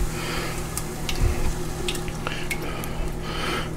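Crushed tomato from four cans going into a pot of homemade meatball pasta sauce: a steady wet churning and scraping, with a few light metallic clinks from the can and spoon, close and fairly loud.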